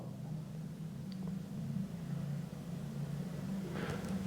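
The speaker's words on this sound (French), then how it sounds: "J'entends une autre mobilette là dans la rue en bas." A moped passes in the street below, heard faintly from a distance as a steady low engine drone under the room's quiet, with no voices.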